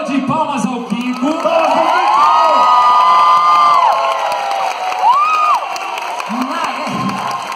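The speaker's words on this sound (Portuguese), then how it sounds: "Uma salva de palmas ao Kiko" A crowd at the Santos Festival Geek 2019 fan festival cheers, whoops and claps loudly for Kiko, with shouted voices and howling swells rising over a continuous roar of the audience.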